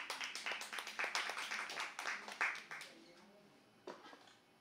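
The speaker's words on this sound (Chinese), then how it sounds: "我们掌声欢迎他" A small audience claps to welcome a speaker on stage, a brisk burst of hand claps that thins out and fades within a few seconds, leaving a quiet room with one late clap.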